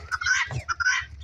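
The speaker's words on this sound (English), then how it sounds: "these guineas are just so loud" Guinea fowl calling loudly from a cage on a farmstead, a quick series of harsh, raspy shrieks and chattering squawks at close range, with no one speaking.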